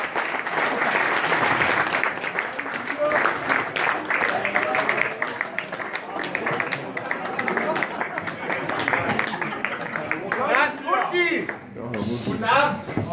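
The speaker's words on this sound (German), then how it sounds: "bitte so mit Ihrem freundlichen Applaus unseren ersten Gast zu empfangen" A television studio audience applauds warmly to welcome the first guest on a German political comedy show, steady dense clapping filling the room with a voice speaking over it.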